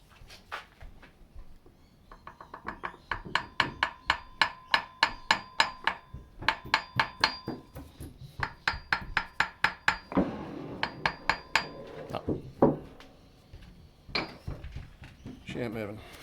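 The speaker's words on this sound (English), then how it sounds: "Maybe I'll just give it a little gentle kiss with a hammer" Sharp, repeated hammer blows on a stuck part of a Vevor two-stage vacuum pump during a teardown. The strikes come close and loud in quick bursts of many taps, with short pauses between them and a few heavier knocks near the end.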